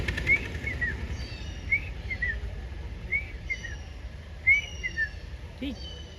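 A brain fever bird (common hawk-cuckoo) calls on a nature walk, giving short, high whistled phrases that repeat at a steady pace over a faint outdoor background.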